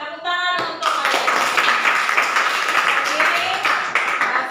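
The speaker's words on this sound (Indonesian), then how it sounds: "Ya, tepuk tangan untuk kalian." Students in a vocational high school classroom clap their hands in a steady, dense burst of applause after a short opening voice, the clapping loud and close and continuing to the end.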